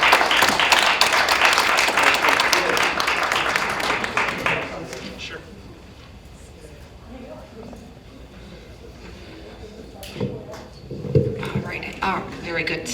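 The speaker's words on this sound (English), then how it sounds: "Give yourselves a round of applause for all the good hard work tonight" Workshop participants at a county facilities master plan visioning session applaud for about four and a half seconds, a dense wash of clapping that then gives way to quiet room sounds with a voice speaking.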